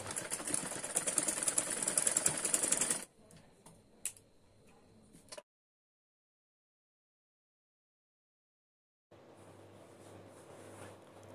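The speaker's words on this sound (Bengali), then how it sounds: "এখন আমি কাঁধের দিকে 1/2 ইঞ্চি করে সেলাই করে নিব।" A sewing machine stitches the shoulder seam of a lehenga-style blouse at a half-inch allowance. Rapid, close mechanical ticking runs for about three seconds, then gives way to faint handling clicks, near-silence and a low hum.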